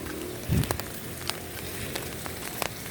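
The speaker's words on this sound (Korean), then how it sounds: "오늘 비 완전 옵니다." Heavy rain falls outdoors on a street near a crosswalk, a steady wash of patter with scattered sharper drops close by, fairly faint throughout.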